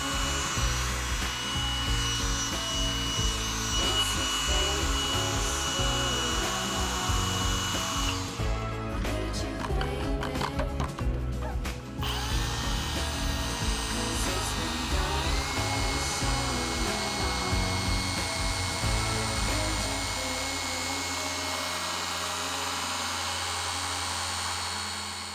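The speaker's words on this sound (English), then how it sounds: "when you do jump up to the top end of its speed, it flips a bit of a beast mode switch, almost like a supercharger winding up" Shine Mate EB210 mini/macro hybrid polisher-sander running at its top speed: a loud, steady motor whine with a rough, vibrating buzz that holds throughout, close up and with no talking.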